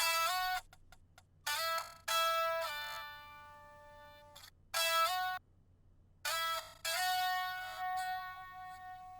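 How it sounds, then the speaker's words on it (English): A chopped sample of a hyperpop beat's main chord progression plays as short, bright synth stabs that cut in and out in a stuttering rhythm, with silent gaps between the chops. "For the second half of this hook, I bring in that chop of the main chord progression that I showed you."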